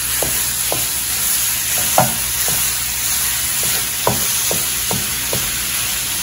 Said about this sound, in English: I'm going to add the ground beef to the pan. And I'm just going to break it apart